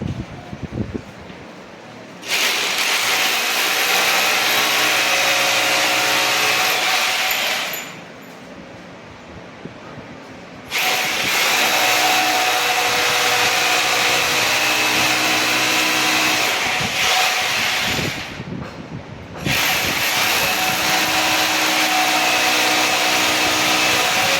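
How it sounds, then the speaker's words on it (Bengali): A power drill runs on a rooftop in three long, loud bursts of steady whining motor noise, each separated by a brief pause, heard up close. "এখন আমরা দেখুন যেরকম করে ড্রিল করছি।"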